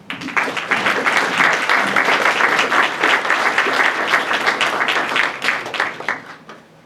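An audience applauds steadily to welcome architect Michael Maltzan at a talk, with dense clapping that holds for several seconds and then tapers off.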